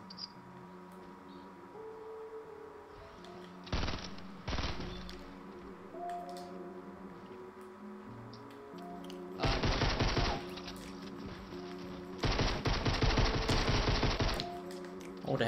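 Gunfire in the Fortnite Battle Royale video game: bursts of rapid automatic shots in several loud clusters, separated by quieter stretches of game ambience.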